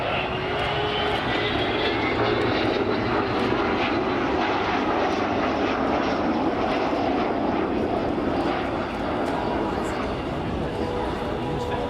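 Avro Vulcan XH558 delta-winged jet bomber flying overhead, a loud continuous roaring engine drone filling the whole stretch with a steady broad rumble.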